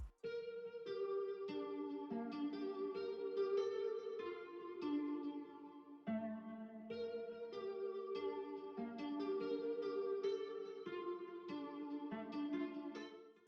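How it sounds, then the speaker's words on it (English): Electric guitar drenched in Valhalla reverb and Arturia chorus, playing a moody, sustained melodic pattern of plucked notes for a dark UK drill beat; the tone is lush and shimmering, steady in level, with no talking. "And now all those effects have been added, the guitar now sounds like this."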